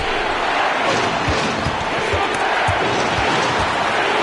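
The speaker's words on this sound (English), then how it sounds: "you gotta love hearing a crowd get this fired up" An arena crowd roars in NBA 2K26, a loud, steady wall of cheering and noise with faint thuds of a bouncing basketball underneath.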